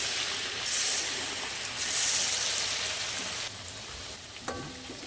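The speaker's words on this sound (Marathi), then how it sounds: "असं मिडियम गॅसवर मस्त खरपूस होईपर्यंत भाजून घ्यायचं." Rice flour chakli fry in hot oil over a medium flame, a steady, dense sizzle and bubbling that holds throughout and eases slightly toward the end, with a faint clink near the finish.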